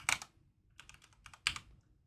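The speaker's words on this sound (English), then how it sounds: "so we'll type in the URL for our OData feed" Keystrokes on a computer keyboard entering a web address, arriving in short clustered bursts with brief pauses between them, close and fairly quiet with no talking.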